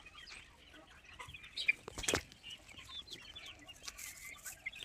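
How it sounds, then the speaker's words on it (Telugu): Faint clucking from a group of country chickens in a farm shed, with a brief burst of wing flapping midway and scattered bird calls. "ఇది నా షెడ్లో నాటుకోళ్ళ ఫాము ఇలా ఉంది"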